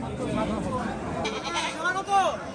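A goat gives a couple of short, wavering bleats near the end, partly overlapped by people talking close by at a busy cattle market in Hazratpur.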